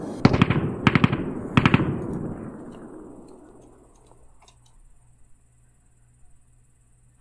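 Three short bursts of machine gun fire from a WWII shooter set in Normandy 1944, each a rapid rattle of shots followed by a long echoing tail that fades into quiet ambience.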